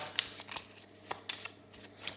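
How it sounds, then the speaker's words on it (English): Papery riffling and soft snaps of cards being shuffled during a Tea Dragon Society board game, a quick irregular series of light taps close by, with no voices. "all these cards are shuffled together"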